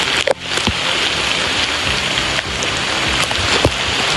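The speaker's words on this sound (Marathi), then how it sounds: "बघा पाऊस आलेले" Steady rain pours down outdoors during the season's first downpour, a dense continuous hiss of drops on surfaces with a few sharp knocks near the start.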